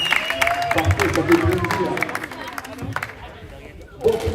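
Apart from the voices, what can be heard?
audience applause at a junior league match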